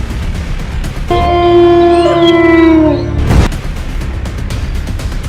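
A wolf in the Bahraich area lets out a single sustained howl of about two seconds that rises and then slides downward. It stands over a noisy background and ends with a dull thump.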